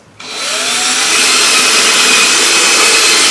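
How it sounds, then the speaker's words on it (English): A power drill starts abruptly and whines loudly and continuously, the high, steady buzz of the bit biting into wood up close while building a cigar box mandocello. "I'm going to drill a couple of holes"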